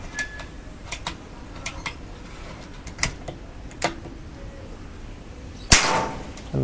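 A single sharp air rifle test shot cracks out near the end, loud and close, after a stretch of quiet scattered clicks and small mechanical taps.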